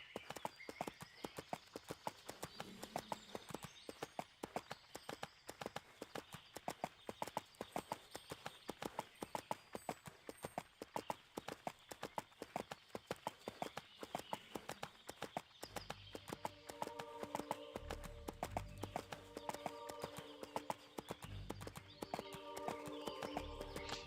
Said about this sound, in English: Get down here and we should be able to use the horses.